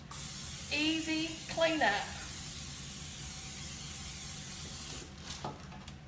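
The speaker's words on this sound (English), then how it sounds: "I am going to spray the fire out of this" Nonstick cooking spray hisses steadily into a baking dish being prepared for baked spaghetti, a sustained close spray following a short stretch of someone talking.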